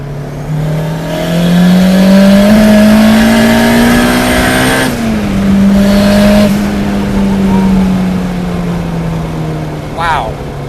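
A 390-horsepower turbocharged Honda Civic EK hatchback pulls hard, its engine note climbing steadily, dipping at a gear change, then rising again, loud and close with turbo whoosh and a brief chirp near the end.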